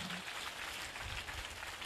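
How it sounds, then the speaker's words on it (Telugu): A church congregation claps in praise during a live prayer service, producing a faint, steady wash of many hands applauding throughout. "గట్టిగా చప్పట్లు కొట్టి ప్రభువును స్తుతిద్దాం"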